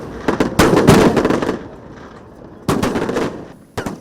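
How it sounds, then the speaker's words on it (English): Fireworks fired at a hotel display, shells and cakes going off in two dense bursts of rapid crackling bangs with a gap of quieter sky between, ending in a few sharp separate pops. "The fireworks are launched in a technical manner."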